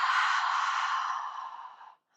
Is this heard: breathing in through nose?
yes